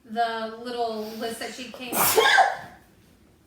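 A single sharp, close sneeze bursts out near the end of a stretch of talking, with a voice speaking just before it.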